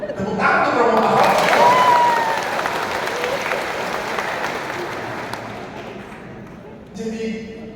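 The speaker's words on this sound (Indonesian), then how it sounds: "Tepuk tangan untuk Romo Mahal." Audience at a gathering for a Catholic priest applauds in a dense burst that fades gradually over several seconds, then a brief voice or murmur rises near the end.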